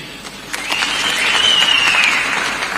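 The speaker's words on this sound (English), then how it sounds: "Once again, a big round of applause to the National Party Chairperson, Mr. Collins Maoma" Crowd applause at a National Party political rally, a sustained wash of clapping that swells after a soft start and holds steady throughout, with a faint whistle-like tone rising and falling above it.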